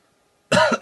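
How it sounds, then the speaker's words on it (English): Half a second of silence, then a loud, close cough followed quickly by a second shorter one. "One moment, I had to cough."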